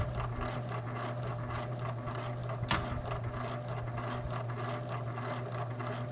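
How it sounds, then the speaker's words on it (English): A sewing machine runs steadily with a rapid mechanical whir and low hum, with one sharp click partway through, close and fairly quiet. "The sewing machine now sews forwards and backwards and is no longer stuck in reverse."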